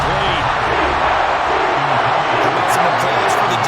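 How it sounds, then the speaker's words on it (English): Crowd applause and cheering in the stands of Madden NFL 24 on PS5, Giants vs. Eagles, a steady loud wash of clapping and noise filling the whole moment with a voice talking faintly underneath. "Some applause for the defense there."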